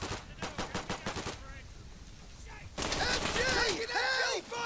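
Rapid automatic gunfire in a World War II beach battle in Day of Infamy, loud bursts of repeated shots at the start, a quieter gap, then dense overlapping fire and ricochet-like whistles.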